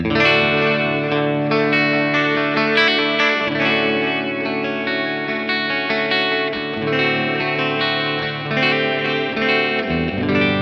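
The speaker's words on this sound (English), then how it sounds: "So this is the tape echo with about, let's see, let's go about 400 milliseconds or so." Sustained, layered musical tones processed through a tape echo delay set to about 400 ms, with a dense, smeared wash of delayed repeats under the notes.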